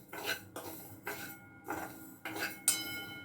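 Flax and niger seeds dry-roasting in a pan, stirred with a utensil that scrapes and clinks against the metal in repeated bursts roughly every half second, close up with no talking.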